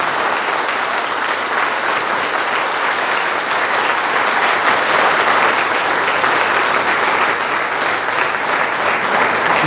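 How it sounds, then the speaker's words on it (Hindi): Theatre audience applauding at the close of a Hindi stage play, Champaran ne Kaha Hai: dense, steady clapping fills the hall at full volume from start to finish with no break. "एक बार अपनी तालियों से सूचित करें आपको कैसी है।"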